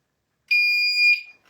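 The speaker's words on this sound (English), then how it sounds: "We're gonna set that alarm off." A piercing electronic alarm in an old abandoned sanatorium sounds one loud, steady high-pitched tone for under a second, then cuts off after a moment of silence.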